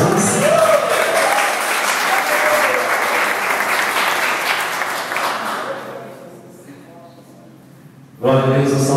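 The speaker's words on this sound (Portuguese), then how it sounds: "aplaudindo o Senhor Jesus" A church congregation claps together in a dense, loud wave of applause that gradually fades out, with a voice speaking over the start and resuming at the end.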